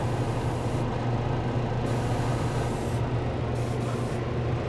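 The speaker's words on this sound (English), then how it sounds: "and spray at about this distance, and do a blending spray" Airbrush spraying paint in a blending pass at raised air pressure, a continuous even hiss of air held at close range, with brief dips where the spray pauses.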